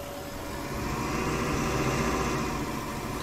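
A Zetor Proxima tractor engine idling in Farming Simulator 19, a steady low droning hum with a faint tonal whine, held evenly and alone for several seconds.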